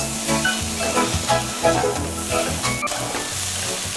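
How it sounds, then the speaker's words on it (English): Fresh tomatoes go into a pan of Bolognese sauce, which sizzles and fries steadily for the whole stretch, with soft stirring scrapes and small pops on top of a constant close hiss. "After that, we add our tomatoes. Fresh tomatoes."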